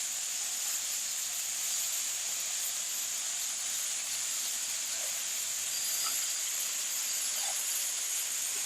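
Fresh-ground smash burgers, one with onions, sizzling on a Blackstone griddle as they're flipped: a steady, loud, bright hiss of frying fat throughout, with a few faint scrapes and no talking.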